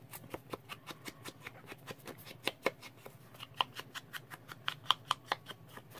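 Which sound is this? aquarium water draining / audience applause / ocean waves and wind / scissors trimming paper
scissors trimming paper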